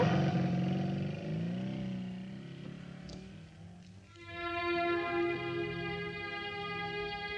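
A motorcycle pulls up and idles in front of a house door, its engine note dropping as it slows and then settling into a steady, fairly loud idle hum.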